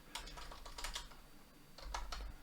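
Quiet, fairly fast typing on a computer keyboard: a cluster of light key clicks, a pause, then another short burst of keystrokes over a low background hum.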